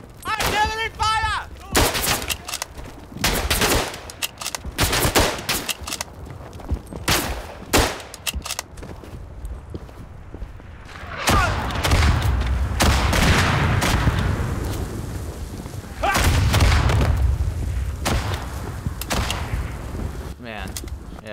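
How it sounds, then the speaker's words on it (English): Artillery fire in the WWI shooter game Verdun: repeated loud booms and heavy gunfire crashes roll through the whole stretch, with sustained rumbling barrages in the second half and brief shouted voices mixed in. "Artillery fire!"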